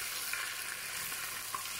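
Chicken coated in red chili powder is stirred in a karahi, with a steady, close sizzle of frying throughout and a couple of faint scrapes of the spoon against the pan.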